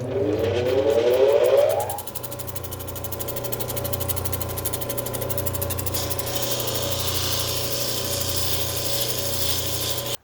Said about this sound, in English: So we're going to switch back over to the 600 grit wheel.